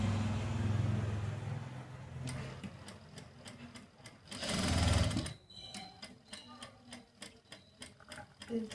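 Sewing machine stitching a tucked blouse without lining, running in loud whirring bursts that stop and start, followed by a slower series of distinct mechanical ticks from the needle, close by.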